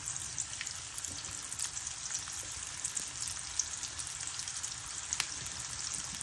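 Small potatoes frying in oil in a home kitchen, a continuous fine crackling sizzle at steady low level with faint scattered pops, no voices.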